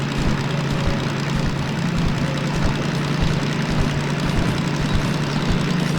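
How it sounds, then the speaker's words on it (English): Two locomotives, a DM3 diesel and a steam engine, haul a heavy train uphill in Derail Valley, giving a steady, loud low engine drone with a constant hum that runs unbroken throughout, with no talk over it. "We've got the DM3 and we've got the steam engine both hoofing away here"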